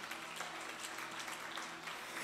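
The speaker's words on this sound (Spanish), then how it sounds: "Denle un aplauso a Dios por la vida de Cecia." A church congregation applauds, a steady wash of many hands clapping at moderate volume, continuous and even for the whole moment with no voices standing out.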